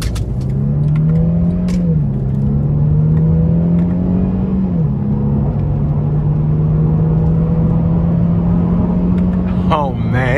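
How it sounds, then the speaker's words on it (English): A 2012 Mercedes-Benz E350 4MATIC with a 3.5-litre V6 accelerating hard on paddle shifters, its engine note climbing steadily through gears with two brief dips at the shifts, heard from inside the cabin. "Now I'm gonna put my foot in it and use the paddle shifters."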